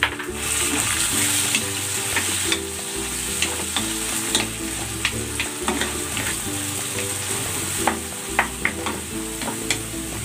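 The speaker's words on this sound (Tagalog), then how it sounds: "Igisa na rin natin itong kamatis." Onion and tomatoes sauté in a hot pan, a steady sizzle running throughout with scattered spatula scrapes and clicks against the pan, close and continuous with no voices.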